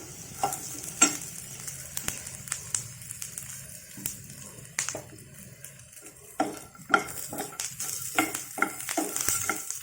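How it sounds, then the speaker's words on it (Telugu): Green chilies frying in a pan for a peanut chutney, a soft crackling sizzle under frequent close scraping and clinking of a spoon stirring against the metal pan, in irregular bursts. "వేగినాయి పచ్చిమిరకాయలన్నీ తెల్ల తెల్లగా వచ్చినాయి"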